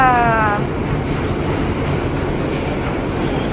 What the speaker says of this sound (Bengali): এই যে আমরা সাবওয়ে ট্রেনে করে আমরা রথে যাচ্ছি